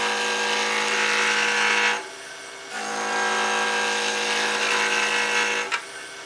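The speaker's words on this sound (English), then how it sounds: "So right now I'm using my round carbide tool." Woodturning with a round carbide tool cutting down blanks on the lathe, a steady loud scraping whir with a brief pause partway through, near and without talk.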